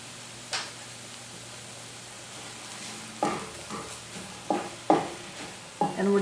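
Onions and crushed garlic sizzle softly in a pan under a steady hiss, broken by several sharp stirring scrapes toward the end.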